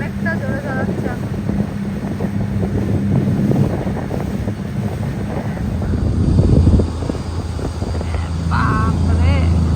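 Fast boat ride on the sea at Batumi, Georgia, with a steady engine drone and heavy wind buffeting the microphone, with people talking over it.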